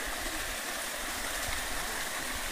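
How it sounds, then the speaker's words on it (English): Waterfall pouring into a river between Huhdangru and Rurur villages under Shamator district, a steady, loud, close rushing roar of water with no voices. "See guys, waterfall."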